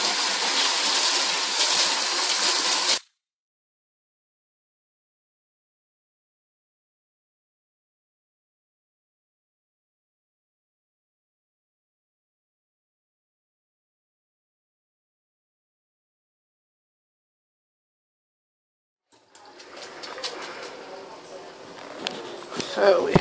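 Running tap water pours loudly over shirataki noodles being rinsed for about three seconds, then cuts off into a long silence before softer splashing and handling noises return near the end.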